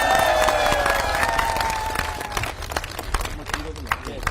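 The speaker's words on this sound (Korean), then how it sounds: "한병도 의원님께 다시 한번 뜨거운 박수 부탁드리겠습니다" Crowd applause and cheering for lawmaker Han Byung-do at a Korean election campaign rally in Gunsan, Jeonbuk. Dense clapping runs throughout, loudest at first and thinning slightly toward the end, with voices mixed in.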